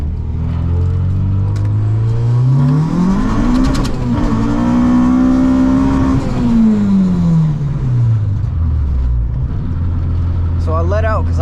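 A car with an LS engine and transmission accelerates hard, a loud close engine roar rising in pitch, holding high, then dropping as it lets off, with a voice speaking over the engine.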